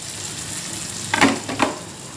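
Washed loitta fish dropped into sizzling fried spice paste, a steady frying hiss swelling into a brief burst of crackle and stirring as the fish goes in, close and fairly loud.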